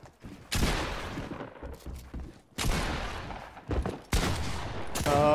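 Shotgun blasts ring out in the video game Fortnite, four loud, close booming shots spaced about a second or more apart, each with a short ringing decay.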